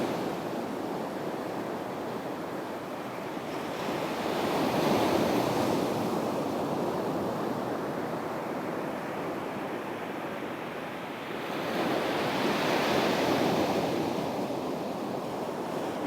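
Gentle ocean waves rolling in surf, two slow swells building and receding over about sixteen seconds, steady and moderately loud with some wind rumble and no voices.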